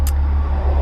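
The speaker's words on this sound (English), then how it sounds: "pardon the road noise and shit" Steady low rumble of road noise inside a moving car with no air conditioning running, a loud continuous drone with a brief hiss near the start, no voices.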